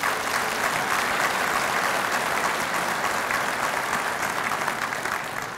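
Sustained, dense applause from a banquet crowd at an anniversary dinner honoring distributors from Japan, loud and even throughout with no pauses.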